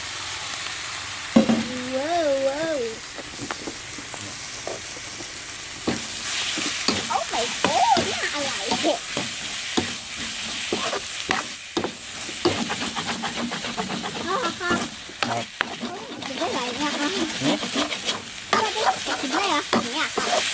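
Pork stir-frying in a hot pan for a spicy Thai stir-fry cooked at home, with a steady sizzle and hiss throughout and repeated scraping stirs of the spatula. The cooking sounds are close and continuous, and a brief voice-like tone is heard early on.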